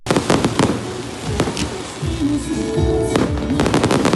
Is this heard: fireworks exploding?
yes